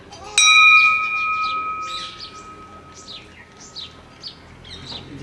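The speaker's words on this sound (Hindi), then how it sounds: "बेचारा मंदिर बाहर खड़ा और घंटी बजाता है" A temple bell is struck once with a bright, ringing clang and its tone hangs and slowly fades, while birds chirp in the background throughout.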